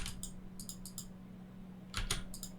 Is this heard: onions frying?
no